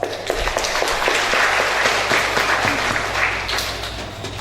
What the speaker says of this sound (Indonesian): Untuk itu mari kita berikan aplaus.